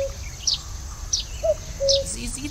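A cuckoo calls in a forest scene in the adventure game The Night of the Rabbit, with short bright chirps repeating every half second or so over soft ambient background, faint and somewhat distant.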